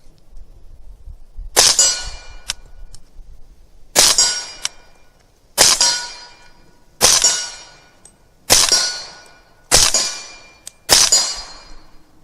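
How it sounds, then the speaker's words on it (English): Suppressed Ruger Mini-14 firing subsonic .300 Blackout: seven sharp, metallic shots spaced about 1.3 seconds apart, each a close, loud crack with a short ringing decay, no talking. "This is going to be my first time shooting 300 Blackout through a can"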